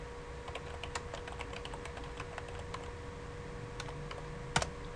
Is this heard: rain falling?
no